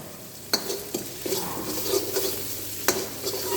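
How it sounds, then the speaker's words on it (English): Chopped chili sautéing in a pan for vegetable manchow soup, a steady soft sizzle broken by a few sharp clinks and scrapes of a spoon stirring against the pan. "saute it well until you get the flavor of spiciness of chili"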